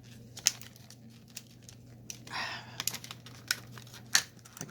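A plastic package holding scissors crinkles and rustles as hands struggle to pull it open, with sharp crackles and one longer tearing scrape, close and without talk.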